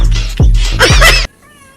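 Several cats meow and caterwaul loudly in a run of overlapping, drawn-out cries, close by, then cut off into near silence.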